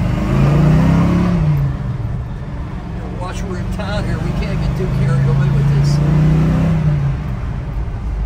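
A 1970 Chevrolet El Camino SS 396 V8 with a four-speed and a mildly bigger cam, revving close by in town. Its deep exhaust rumble swells and falls twice, with someone talking over it.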